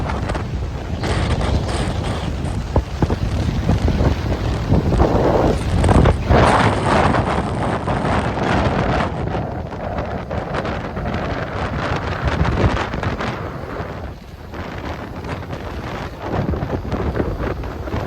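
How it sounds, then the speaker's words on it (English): Strong wind buffets the microphone on Bournemouth beach during stormy weather, a loud continuous roar with gusting surges throughout, no voices heard. "It's so windy, guys."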